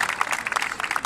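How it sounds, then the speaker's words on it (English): Dense, steady applause from a street-show audience in Leicester Square after a dance act, filling the whole short moment with no gaps. "Give me one more round of applause,"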